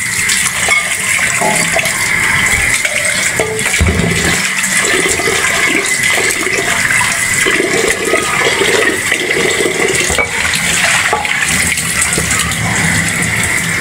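Water runs and splashes continuously while hilsa fish are washed, a loud, close, steady gush with small clatters from handling, and no talking.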